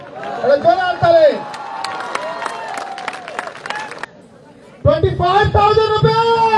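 A crowd claps for the winner at a district police marathon in Balurghat, scattered applause with cheering and chatter under a loud announcer's voice, breaking off briefly before voices resume.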